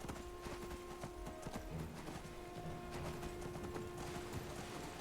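Horse hooves clip-clop steadily in Skyrim, a continuous rhythmic trotting at moderate distance, with a sustained tone and scattered clatter around it; no talk.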